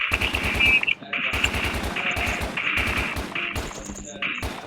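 Rapid automatic gunfire from a shooting video game comes in repeated close, loud bursts with brief gaps between them, and a player's voice is heard over the shots.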